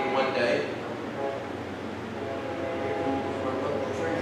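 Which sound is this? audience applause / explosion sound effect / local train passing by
local train passing by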